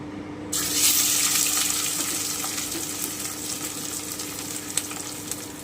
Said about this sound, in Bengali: এবারে আমার আলুটাকে খুব সামান্য একটু ভেজে নিচ্ছি